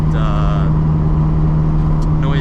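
Steady road and tyre roar inside a modified Nissan S15 on the move, a constant low drone with a faint engine hum and some brief higher whines over it.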